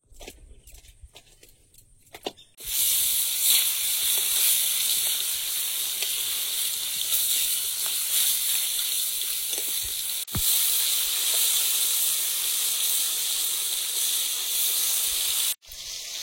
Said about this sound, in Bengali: খুব ফাটে এ মাছ। আজকে তো তেল দিয়ে দিচ্ছি